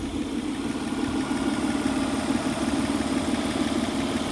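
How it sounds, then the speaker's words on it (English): A Citroen C5 with a 3.0-litre V6 idles with the bonnet open, giving a steady, even low hum that holds constant and close with no talk over it. "I'm just going to open up the bonnet and let you hear this engine purr"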